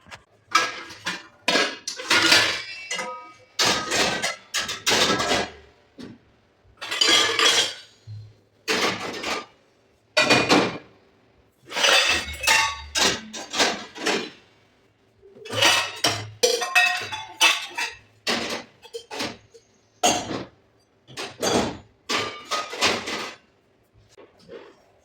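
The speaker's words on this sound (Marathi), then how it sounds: "आता हे भांडे वगैरे घासून घेते" Dishes, pots and pans being scrubbed and handled in a home kitchen, with repeated metallic clanks, scraping and knocks in uneven bursts separated by short quiet gaps.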